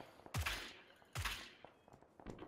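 Suppressed gunfire in PUBG sounds as two quiet, sharp muffled shots less than a second apart, followed by a few fainter pops.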